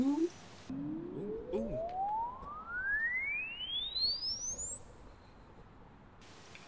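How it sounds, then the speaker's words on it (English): A pure sine-wave test tone sweeps steadily upward from low to very high pitch, played into a room to capture its acoustic response, clear and alone over a faint background hiss for several seconds. "The sine wave goes"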